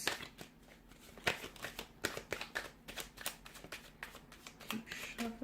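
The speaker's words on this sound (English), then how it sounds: "Keep shuffling." Tarot cards being shuffled in quick, crisp riffles and flicks, a busy run of sharp papery snaps close by with no voices.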